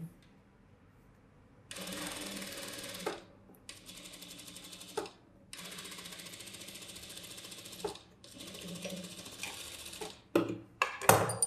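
A tailor's sewing machine stitches a boat-neck blouse back along marked lines, running in several steady bursts separated by short pauses, close and clear.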